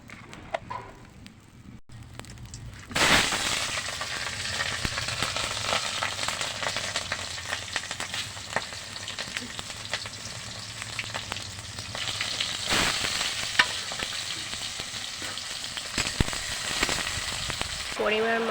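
Panch phoron spices sizzle and crackle in oil on a clay stove, the frying bursting in loudly after a quiet start and continuing steadily with occasional stirring scrapes and faint outdoor background.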